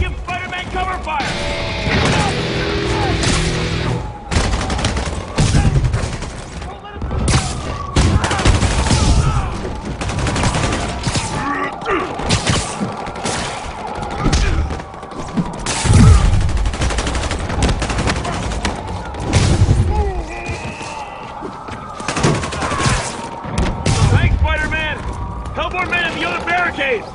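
Sustained gunfire in Marvel's Spider-Man Remastered, with rapid machine-gun bursts and heavy impacts crackling continuously over a loud battle mix, while voices talk over the shooting.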